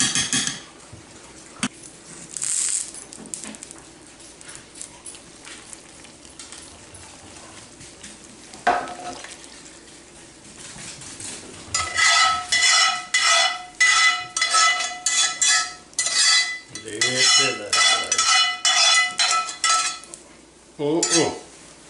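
Gravy simmered with deglazing liquid in a cast iron skillet being transferred into a crock pot for venison stew, with quiet clatter at first, then a run of loud, rhythmic metal scrapes and clanks of a utensil against the pan.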